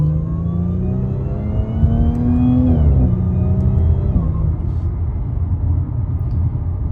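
An Audi accelerates hard through the gears, its engine droning loud and close with rising harmonics, then briefly dropping at each shift before climbing again, with a steady road rumble underneath.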